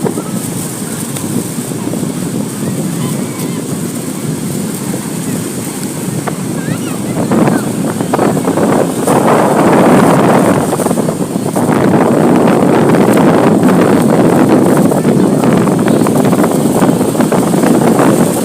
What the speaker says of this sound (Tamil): காற்று சுகமான காற்று